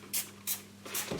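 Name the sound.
spraying all-purpose cleaner on a sink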